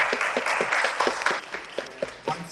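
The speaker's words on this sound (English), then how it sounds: "Once again, a round of applause, please, for Lady Haley Patterson." Audience applause at a morning session of a Manhattan book conference, steady dense clapping filling the room for a couple of seconds with faint voices underneath.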